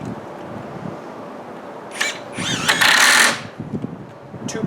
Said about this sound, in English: I turn to screws for the angle braces.